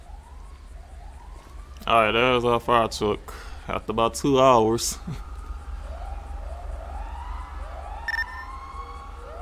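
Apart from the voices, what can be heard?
fire truck siren in LSPDFR police video game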